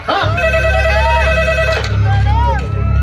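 A telephone rings with a warbling electronic tone, repeating over a steady low hum, loud and close.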